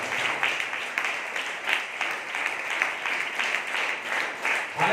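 Congregation applauding during a Telugu Sunday church service, steady continuous clapping from many hands filling the hall with rhythmic bursts, fairly loud and without speech.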